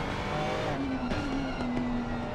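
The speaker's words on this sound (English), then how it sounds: "The downshift of his car makes a good noise." Ferrari GT3 race car in the racing game Assetto Corsa Competizione, engine note dropping and rising through quick downshifts, with tire noise over a constant loud engine drone.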